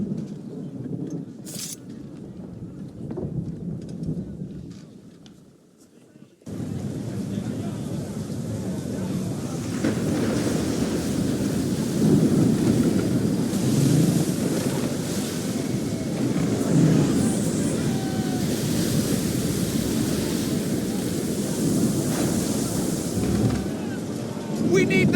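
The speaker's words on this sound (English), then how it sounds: "You wish us to sail into the storm?" Stormy open sea aboard a sailing ship in Assassin's Creed III: a steady roar of wind and crashing waves fills the scene, loud and continuous after a brief quieter opening.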